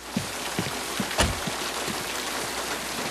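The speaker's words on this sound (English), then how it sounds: "I didn't hear you in all this rain." Heavy rain pours steadily through a scene from the 1960 film Psycho, a dense, even hiss broken by a few soft low thumps.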